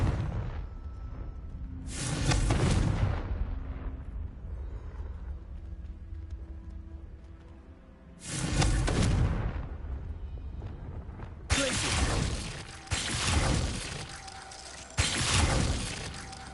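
Confringo explosive spell blasts in Hogwarts Legacy burst out several times, each a loud crackling, shattering impact with a decaying tail. Quieter ambience and a faint voice sit between them.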